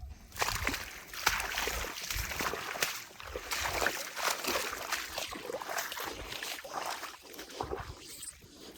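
Water flowing along a drainage channel on farmland and pouring straight into a river, a steady broadband rush with sloshing and splashing that stays close and continuous throughout.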